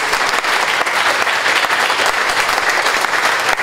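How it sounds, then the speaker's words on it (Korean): Dense, loud applause from an audience at a missionary safety conference, steady and continuous throughout with no pauses. "우리 한번 크게 박수 한번 쳐주세요"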